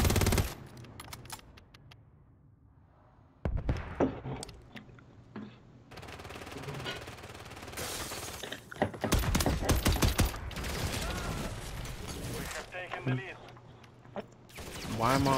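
Video game gunfire, automatic bursts and single shots from a player's rifle in a shooter match, crackling loud and close in several clusters across the stretch, with a voice talking over parts of it.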